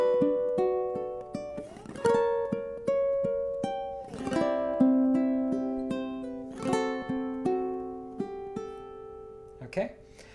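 Ukulele playing the last four bars of a lullaby, plucked notes and strummed chords ringing and decaying in a slow, gentle rhythm, close and clean with no talk.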